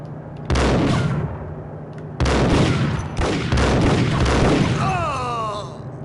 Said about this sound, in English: He threw a grenade down at me